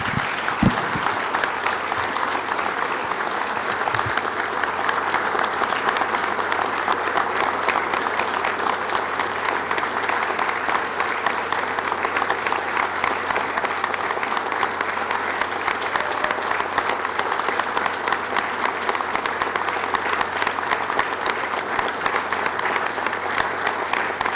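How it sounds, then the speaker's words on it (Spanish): Sustained applause from a crowd at a weekly political assembly in Mexico, a steady, dense wash of clapping hands lasting the whole stretch, even and unbroken, with no voices rising above it. "un minuto de aplausos en memoria de doña Rosario Ibarra de Piedra"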